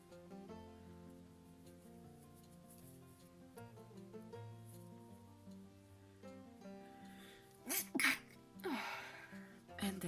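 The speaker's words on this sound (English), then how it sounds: "And that's me sneezing." A person sneezes partway through a crochet tutorial, two sharp bursts in quick succession near the end, over quiet background music.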